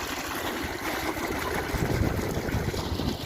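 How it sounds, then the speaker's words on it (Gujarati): Irrigation water flows steadily into a groundnut field on a cool, overcast day, a continuous rushing and trickling wash that swells slightly in the second half, with no voices. "આ પાણી આવે છે."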